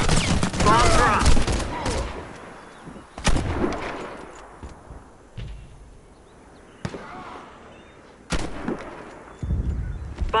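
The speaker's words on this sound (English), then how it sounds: "Fire in the hole! Grenade!" Grenade and bomb blasts in a Warface clan PvP match on the Bridge map, several heavy booming explosions hitting at irregular intervals with sharp attacks and rumbling tails, loud and close.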